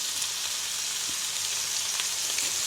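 A steak blackening in a very hot cast iron pan, Paul Prudhomme style, hisses with a loud, constant, close sizzle, rain-like and unbroken, with faint ticks and pops scattered through it.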